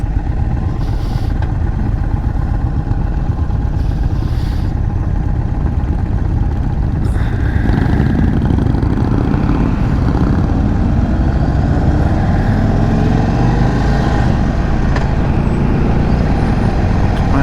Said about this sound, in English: This bike rips, and I'm a big fan.